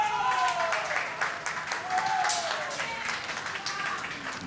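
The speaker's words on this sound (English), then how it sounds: "If you can hear a few cheers in the background," Spectators cheer and clap at an adjoining lawn bowls rink during a 2010 Commonwealth Games women's triples match, where India is playing. The crowd noise is fairly distant and steady, with some raised voices mixed in.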